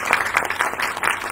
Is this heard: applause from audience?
yes